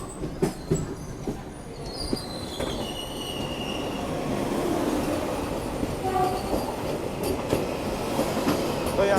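An old ICF-coach Devgiri Express on the Mumbai–Hyderabad route rolls along the rails, heard from inside with a steady rumbling roar, rhythmic wheel clacks and occasional high squeals, with faint voices in the carriage.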